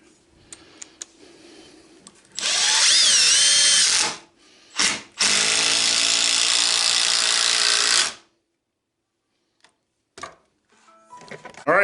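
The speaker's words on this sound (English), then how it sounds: "Alright, impact gun." Impact gun driving a small lag bolt into wood, near a knot: two loud sustained bursts of whirring and hammering, the first about two seconds and the second about three, separated by a short blip, with no talk.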